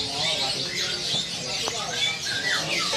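Caged canaries chirp and warble at a Bali bird market, bright twittering phrases layered over a busy background of other birds and faint nearby voices.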